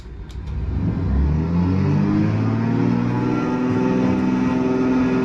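Twin engines of a Cessna 310 spool up in a flight simulator game, a deep rumble rising steadily in pitch and then holding at a loud, sustained drone.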